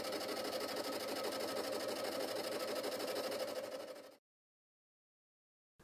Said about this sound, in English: Then rough out the journal itself, bringing it to within 50 to 25 thousandths of final dimension.